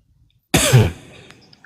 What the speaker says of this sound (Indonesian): Gak enak pun didengar batuknya.